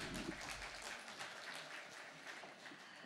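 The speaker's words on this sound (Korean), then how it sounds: "다시 한번 큰 박수 부탁드리겠습니다" Audience clapping after a presentation at a Korean electronic-document industry day event, a steady broadband patter of many hands that sounds moderately distant and continues without any speech.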